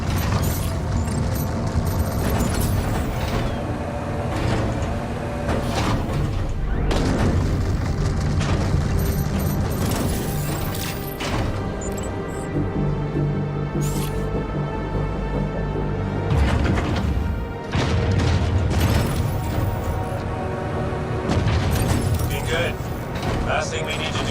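A ship turret firing simulated rounds in the Squadron 42 video game, heard as dense, continuous booming bursts and mechanical rumble, loud and close, with a voice talking over it.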